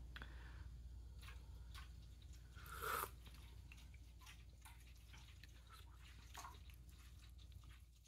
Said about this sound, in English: that water that you hear is Oscar drinking out of his fancy fountain